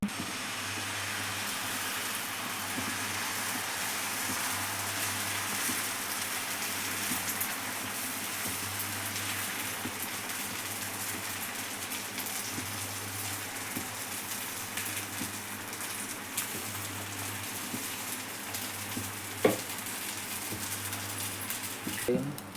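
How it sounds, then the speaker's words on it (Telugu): Egg dosa batter sizzles on a hot pan in a steady, close hiss resembling heavy rain, continuous throughout with a faint low hum underneath and no speech. "ఇట్లా దోశ వేసుకోవాలి. వేసుకున్న తర్వాత ఇది గుడ్డు కలిపి మిక్స్ చేసుకోవాలి."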